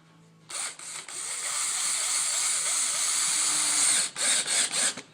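Power drill driving a couple of deck screws into wood to hold the feet of a crouching man Halloween prop steady: one sustained close, loud whirring run of about three and a half seconds, then several short bursts.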